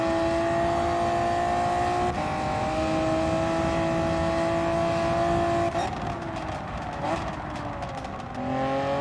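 A car engine in Gran Turismo 7 revs high, then drops through downshifts as the throttle lifts. Its loud, continuous tone falls in pitch with each shift and ends with a burst of crackling on the overrun.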